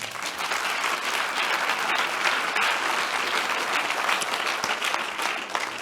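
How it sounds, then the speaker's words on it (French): Sustained applause from an evening audience, a dense steady wash of many hands clapping filling the whole stretch with no break. "on peut les applaudir ce soir"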